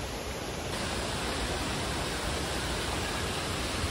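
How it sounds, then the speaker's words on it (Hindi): Toorongo Falls, a waterfall near Melbourne, roars as a steady, dense wash of falling water, loud and unbroken for the whole stretch with no voices. "ये हम ट्रोंगो फॉल्स पे पहुँच गए"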